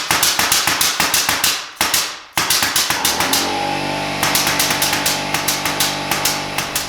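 Rapid, evenly spaced bursts from a pneumatic nail gun fed by a Fortress air compressor, loud and close, broken by a short pause and then continuing over the steady hum of the running compressor.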